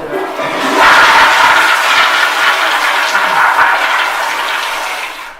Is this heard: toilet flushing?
yes